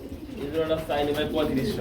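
Soft, low coos of a red pigeon roll in a couple of throaty phrases, close by, with some background voice mixed in.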